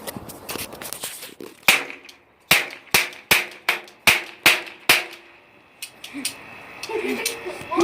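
A toy gun fires a rapid series of sharp, loud pops at a fairly steady rhythm, about nine shots close by, with a few quicker clicks before and after.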